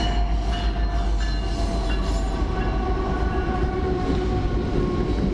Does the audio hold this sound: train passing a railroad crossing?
yes